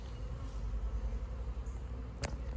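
A swarm of honeybees drones steadily around a bucket used for a swarm catch, a close, continuous buzzing with a low hum underneath and one brief sharp click near the end.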